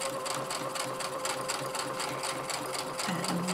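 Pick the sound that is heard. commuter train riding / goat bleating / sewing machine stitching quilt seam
sewing machine stitching quilt seam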